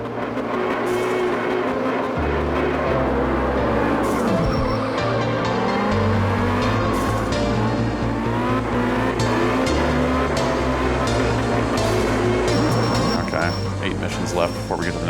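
Engine drone and tire squeal from a car drifting through open areas and under a pipe in the video game Absolute Drift: Zen Edition, continuous and steady, with a voice talking over it.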